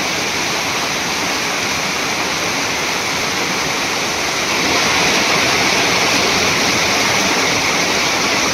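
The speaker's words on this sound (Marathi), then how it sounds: "पाऊस जास्त पडला मित्रांनो" Heavy rain and a rushing stream at a crab-trapping spot make a dense, continuous roar of water, loud and close, swelling slightly midway with no voices.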